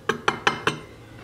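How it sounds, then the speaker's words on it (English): Flour, salt and pepper being mixed in a dish: four quick, evenly spaced clinks of a utensil against the dish, close and crisp, then quiet. "Mix it around."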